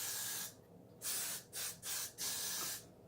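Spray bottle misting liquid while making a bald cap, four or five short hissing spritzes in an uneven rhythm, close and clear with no talk.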